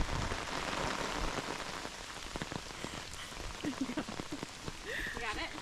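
Rain falling steadily on surfaces in a backyard during a wet, flooding spell, a dense hiss with scattered drop taps, with faint voices and small sounds near the end.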